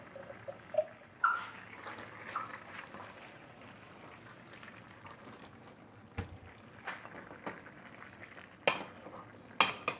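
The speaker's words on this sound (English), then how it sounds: "drop in the butter beans here now." Butter beans go into a pot of Jamaican brown stew chicken, followed by soft stirring and low sizzling with occasional clinks and splashes, fairly faint and close.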